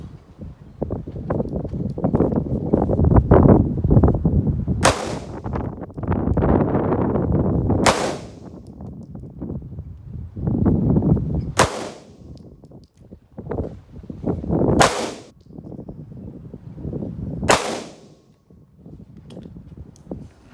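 A Taurus pistol fires five sharp, loud shots spaced a few seconds apart at an outdoor range, each crack standing out over gusty wind noise and low rumble.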